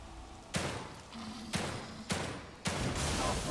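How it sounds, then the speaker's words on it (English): Four heavy gunshots from a pistol in The Evil Within 2, fired at irregular intervals of about half a second to a second, each a sharp broadband blast over a constant low game ambience. "I can't figure out why the bullet cascade is stopping."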